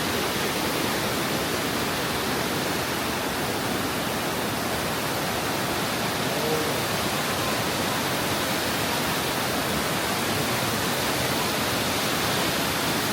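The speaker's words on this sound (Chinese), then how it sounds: "哇，这瀑布还挺大的。" A vast, wide waterfall roars as a dense, unbroken rush of white water that stays steady and loud for the whole stretch, with no voices over it.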